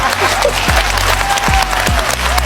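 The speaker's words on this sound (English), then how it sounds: "look at all the guys over there clapping" Men in an audience clap together in a brief burst of applause, loud and close, with crowd noise mixed in and a few short tonal sweeps in the background.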